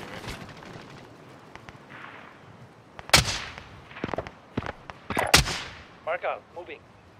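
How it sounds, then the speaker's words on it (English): Gunfire in the video game Warzone, with several sharp, loud shots in short bursts, close by, set against faint ambient game noise. "He's shooting me."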